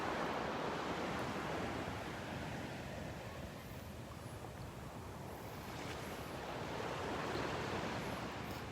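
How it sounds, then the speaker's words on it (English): Small, gentle ocean waves lapping at the shoreline of Delnor-Wiggins beach on a cloudy morning, a soft continuous wash of surf with light wind noise, faint and steady with no talking. "These little waves, they're like just little bumps."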